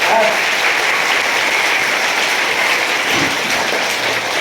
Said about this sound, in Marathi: आपल्या सगळ्यांसाठी जोरदार टाळ्या झाल्या पाहिजे.